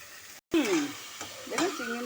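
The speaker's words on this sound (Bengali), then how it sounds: "দেখুন চিংড়ি মাছ দিয়ে আমি নেড়ে দিচ্ছি," Pasted prawns, about 300 grams for a jackfruit prawn cutlet, get stirred in a sizzling pan. A brief gap is followed by close scraping and frying, with short voice-like sounds over it.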